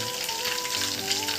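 Chicken pieces frying in hot oil give a steady, dense crackling sizzle, close and fairly loud, continuous throughout with no speech and a faint tonal hum underneath.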